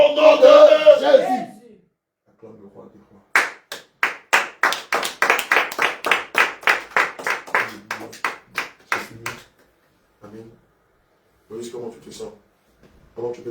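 A congregation at a prayer gathering bursts into rhythmic clapping, a steady run of sharp claps building and then thinning to scattered taps, with a voice calling out before it begins.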